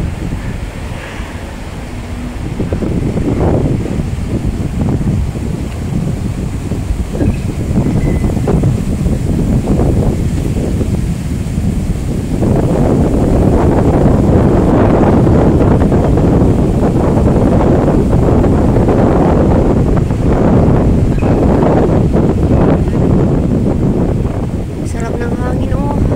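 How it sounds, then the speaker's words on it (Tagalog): Strong wind on an outdoor bikeway, roaring and buffeting the microphone in a loud, continuous rush that swells midway and stays heavy to the end. "Wow, ang sarap ng hangin, oh. Mahangin."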